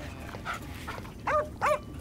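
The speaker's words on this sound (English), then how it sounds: "Watching the dogs play" Dogs barking while playing together during a wildlife conservation detection-dog team's break, two short bright barks late in the clip over a steady background murmur.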